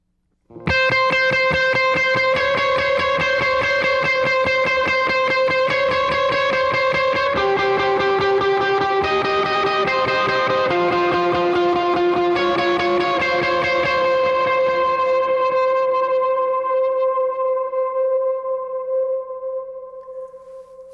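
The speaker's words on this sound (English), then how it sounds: "I'm going to throw on a big overdrive, and then my verb and delay, and then it sounds like this." Electric guitar with heavy overdrive, reverb and delay plays a sustained, saturated melodic line, notes smearing into a dense wash that fades out in a long ringing tail, loud and alone.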